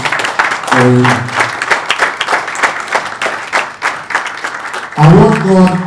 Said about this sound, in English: Can I have a round of applause for him?